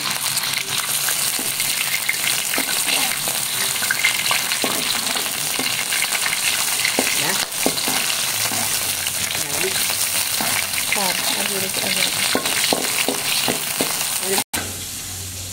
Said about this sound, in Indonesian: Kita goreng udangnya sebentar ya.